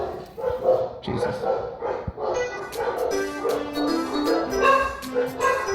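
Dogs barking and yipping repeatedly in an excited, overlapping chorus, close and loud, with a brief spoken exclamation over them.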